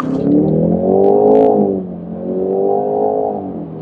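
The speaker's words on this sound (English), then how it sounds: "I'm going to blast from a standstill and let's see how this exhaust sounds" A Jaguar F-Type P300's exhaust roars loudly as it accelerates hard from a standstill, the pitch climbing, dropping at a gear change, then climbing again.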